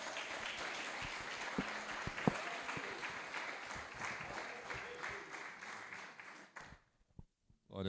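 A church congregation claps together in praise during a worship service. The sustained, even applause fills the room and then fades out near the end.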